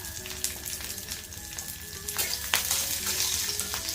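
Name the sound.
coconut roasting in pan with chili, ginger, garlic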